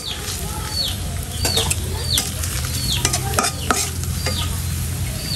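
Vegetables sizzle in hot oil in a pan, with a steady frying hiss and clattering stirs, while birds chirp repeatedly in the background.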